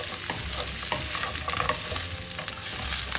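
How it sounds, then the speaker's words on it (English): Brussels sprouts sizzling and crackling in hot bacon fat in a pan, with occasional stirring scrapes, continuous and close. "now let this fry for at least 3 minutes in the bacon"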